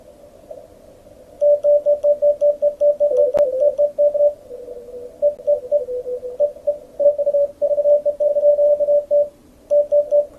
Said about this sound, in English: we want the CW note of the receiving station to sound exactly the same